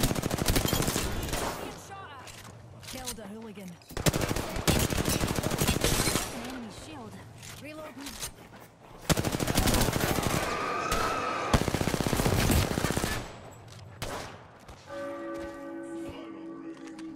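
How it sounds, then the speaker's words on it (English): Rapid automatic gunfire bursts in Apex Legends on the Olympus After Dark night map, loud and repeated between pauses, with short voice lines and game tones heard among the shots. "Being shot at."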